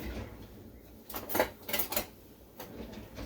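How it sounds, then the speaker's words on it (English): Metal cutlery clattering in a kitchen while someone rummages for a knife to slice zucchini, a few short jangling bursts close by and fairly quiet. "I'll find a knife."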